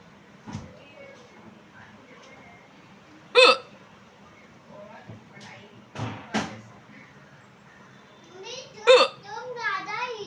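A child hiccups loudly several times in a home, sharp and close with gaps of a few seconds between them, while people talk softly and a door or cupboard knocks.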